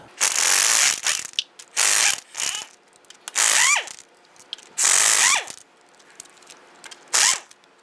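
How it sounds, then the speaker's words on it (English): Ratchet with a 7/8 socket loosening lug nuts on a 2002-2008 Dodge Ram 1500, heard as five to six loud bursts of rapid clicking with short pauses between strokes, alone and close. "Using our 7/8 socket, we're going to head loosen and remove our lug nuts."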